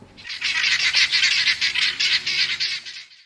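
A flock of birds screeching at a snake in the wild, a dense, loud burst of harsh, rapid overlapping shrieks pulsing steadily for about three seconds, with no talking.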